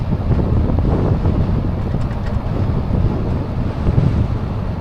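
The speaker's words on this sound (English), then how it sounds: "that wind's even picking my helmet up" Steady, loud wind roar buffets the microphone throughout while riding a Lectric One e-bike on the Barren Fork Greenway, a dense continuous low rumble with no other clear sounds.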